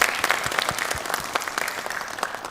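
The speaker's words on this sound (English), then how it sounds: "Another round of applause to our panelists." Studio audience clapping for panelists after a televised mental health discussion, a brief burst of applause with distinct individual claps, fading gently toward the end.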